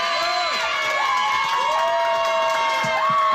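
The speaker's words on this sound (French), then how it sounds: "On peut les applaudir aussi." A festival crowd at a TV fiction festival in La Rochelle cheers and applauds loudly, with whoops and shouts over dense clapping, close and continuous for a few seconds.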